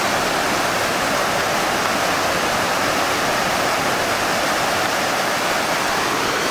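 Steady broadband rush of Separation Creek flowing through a mountain meadow below the Middle Sister in the Three Sisters Wilderness, continuous and close with no voices over it.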